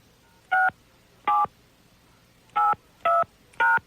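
Five short telephone keypad tones, spaced unevenly as digits are entered into a voicemail system, clear and isolated against a quiet line.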